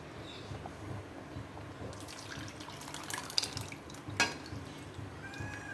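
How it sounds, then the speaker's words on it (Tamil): Lentils (dal) poured from a vessel into mango sambar cooking on the stove, a soft wet splash and trickle of liquid with a few brief clinks, close and fairly quiet, no talking. "இப்போ பருப்பு ஊற்றிடலாம் நம்ம."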